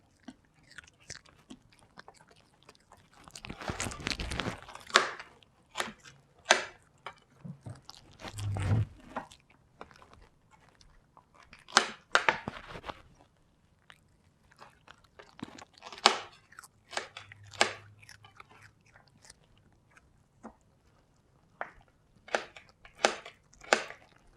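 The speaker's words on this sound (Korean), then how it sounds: "어떻게 그렇게 양배추도 잘 먹나 몰라" A dog chomps and crunches through raw cabbage up close, with repeated crisp bites and chewing bursts spread across the clip and short pauses between them.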